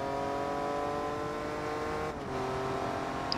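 Jaguar XJ220 engine in Forza Motorsport 2, a steady high droning hum at constant revs with a brief dip and shift partway through, heard alone without talk.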